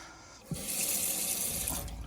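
Water running from a tap in a caravan fitted with an Alde heating system, a close steady gushing stream that starts abruptly after a brief click and keeps flowing without talk.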